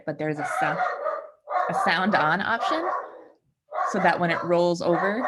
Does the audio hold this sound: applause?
no